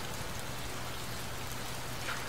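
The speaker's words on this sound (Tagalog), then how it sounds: "Malakas po yung ulan, no?" Heavy rain pours steadily and loudly, a dense unbroken hiss with no gaps and no voices.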